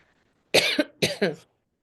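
Two quick pairs of harsh coughs close to the microphone, loud and abrupt, separated by short silences.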